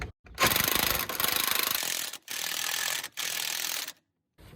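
A wrench works a rusty sway bar bushing bolt on an Infiniti EX35 back and forth, giving three close ratcheting bursts of dense clicking separated by short silent pauses.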